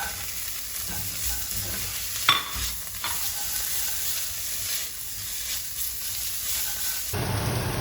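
Onions go into panang curry paste frying in oil, producing a steady close sizzle with a sharp clatter partway through and stirring scrapes, the frying noise swelling louder near the end.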